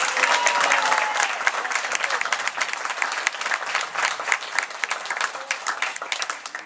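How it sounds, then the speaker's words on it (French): Cabaret-evening audience applauding the troupe's leader, a full, loud round of many hands with individual claps standing out and faint voices mixed in, slowly thinning toward the end. "On peut l'applaudir aussi parce que c'est important."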